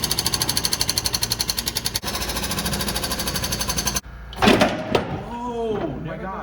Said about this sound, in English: so we can get an impact driver in there and drill in all the self-tappers